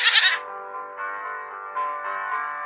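A goat bleats in a bright, wavering cry, with a strong burst at the start and then a thinner, sustained warble that rises and falls over a few seconds, heard alone with no talking.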